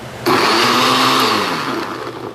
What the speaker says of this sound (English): we're going to put it in a blender